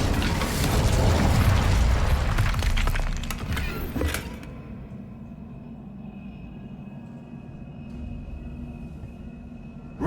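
The Incendio fire spell in Hogwarts Legacy on PC unleashes a loud, roaring burst of flame that rushes for about four seconds, then cuts off abruptly, leaving a low ambient hum.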